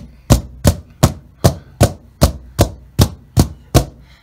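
Filled paper-lined muffin pan of pumpkin muffin batter tapped against a counter ten times in a steady rhythm, each knock a sharp, loud, close thud with no talking.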